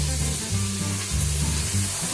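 Chicken biryani ingredients, coriander and ginger among them, sizzle and fry in hot oil in a home kitchen, a steady close crackle with a few soft stirring pulses and no talk.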